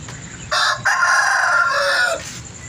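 Aseel roosters kept on a house rooftop give one loud, close crow, a drawn-out cock-a-doodle-doo lasting about two seconds that stands out alone over quiet background.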